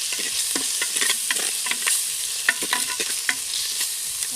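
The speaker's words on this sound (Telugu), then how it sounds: "తగినంత అల్లం పేస్ట్ వేసుకున్నాం." Chicken with ginger paste frying and being stirred in a pan, with steady close sizzling and repeated scraping stir strokes throughout, no voices.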